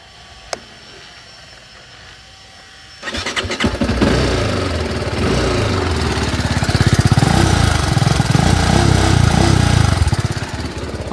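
A TVS Apache RR 310 BS4 motorcycle engine is started up close, a brief click and quiet moment followed by the engine catching and settling into a loud, steady, throbbing idle.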